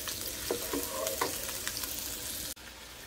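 Garlic, ginger and chicken fry in a pan for fajita rice with a steady, close sizzle, broken by a few scraping stirs early on and a brief sharp drop in sound near the end.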